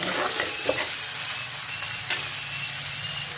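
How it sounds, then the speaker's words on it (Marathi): Onion sautéing in hot oil in a home kitchen pan until golden, with a steady close sizzle and a few sharp scraping stirs from a spoon, no talk. "कांदा घेते तेला परतून सोनेरी रंगाचा झाली होईपर्यंत आपल्याला परतायचं आहे"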